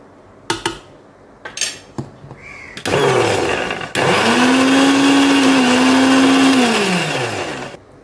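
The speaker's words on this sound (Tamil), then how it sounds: "இந்த மாதிரி விட்டு விட்டு அரைங்க. ரொம்ப நைஸாகவும் அரைச்சிடக்கூடாது." Mixer grinder blending homemade mayonnaise in pulses: a few short whirring bursts, then two long loud sustained runs with a rising and falling motor whine, close up, with no voices.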